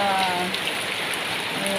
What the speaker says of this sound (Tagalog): Ang lakas po ng ulan guys.